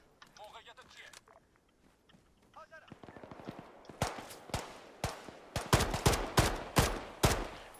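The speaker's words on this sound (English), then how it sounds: "They're firing." Gunfire from rebel forces in the military video game Arma 3, set in Takistan: bursts of sharp shots that grow louder and denser, starting sparse and distant and ending in rapid near volleys, with a voice talking early on.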